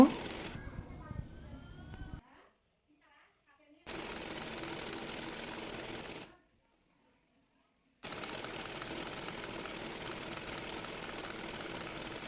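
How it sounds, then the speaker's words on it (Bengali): A sewing machine stitches the side seams of salwar pants in short, rapid whirring runs separated by silent pauses, close and steady. "এবার প্যান্ট পায়জামার সাইডে সেলাই করে নেব"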